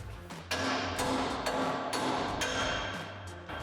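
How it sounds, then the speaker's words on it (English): Hammer whacking a Toyota Tacoma control arm to separate it, a series of about eight sharp metallic strikes in an uneven rhythm, close and clear. "Then we're going to take a hammer. You want to whack the crap out of this so that it separates."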